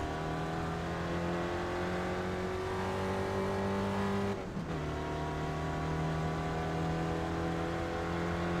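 A Spec Racer Ford race car engine drones steadily at high revs in iRacing on the Long Beach street circuit, with a brief dip and shift around the middle before the engine tone settles again.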